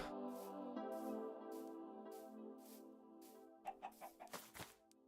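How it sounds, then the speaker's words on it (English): A Minecraft chicken clucks near the player, a short series of quick, choppy clucks after a stretch of layered in-game tones. "Chicken? Chicken."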